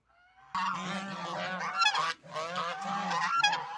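Geese on a farmyard honk loudly and repeatedly, a close, raucous chorus of overlapping calls with a brief pause midway.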